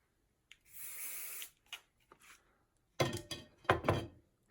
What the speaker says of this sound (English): Then I will go in with my Aussie hairspray again